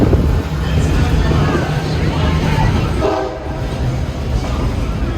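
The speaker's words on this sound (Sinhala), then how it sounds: "හරිම ස්පීඩ් එකකින් තමයි යන්නේ ට්‍රේන් එක" A train runs at speed with continuous loud rumble and wind roar, the rush staying steady throughout while a voice talks over it.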